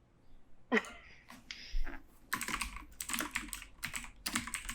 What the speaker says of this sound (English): He's typing a secret message.